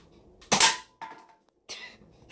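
A toy foam-dart blaster fires with a sharp snapping pop, followed by a couple of softer clicks and thumps nearby, with no talking.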